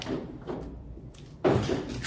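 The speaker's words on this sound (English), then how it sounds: "obviously the door doesn't shut all the way" A race car door that will not shut all the way, swung against thick roll-cage bars: a soft knock early on, then a louder metallic bump and rattle, close by in a garage.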